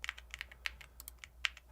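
Fast typing on a computer keyboard during an online typing race, with quick, irregular key clicks that cluster and pause over a steady low background hum, close and fairly quiet.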